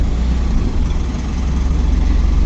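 An Ashok Leyland Dost truck engine drones loud and steady with heavy low rumble as the vehicle drives into water, a continuous close mechanical hum with no voices.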